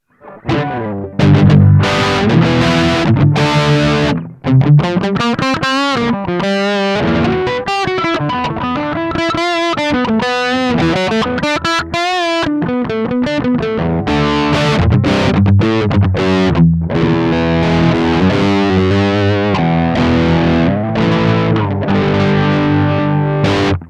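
Distorted electric guitar through a graphic equalizer with boosted bass plays a continuous melodic riff with a heavily shaped, processed tone, loud and up front, without any voices.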